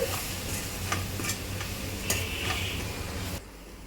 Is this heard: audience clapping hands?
no